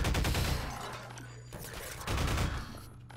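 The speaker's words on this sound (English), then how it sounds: "God, a turret behind me." Automated turret gunfire in the video game Half-Life 2, a dense, continuous burst of rapid shots that stays loud throughout, with faint rumbling beneath and no talk over it.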